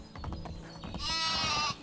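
Sheep in the Medieval Dynasty video game let out one sustained, loud bleat close by, following a stretch of quieter game background sounds.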